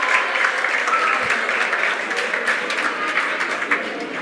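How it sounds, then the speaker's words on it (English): An audience at an international seminar applauds the chief guests, dense steady clapping throughout at moderate distance. "A round of applause for all the chief guests present here."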